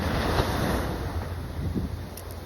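Ocean surf washing in a continuous broad rush, buffeted by heavy wind noise across the microphone, with no voices.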